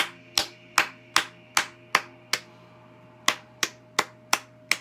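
One person claps steadily eleven times up close, pausing for about a second midway, then resuming the even rhythm over a low background hum.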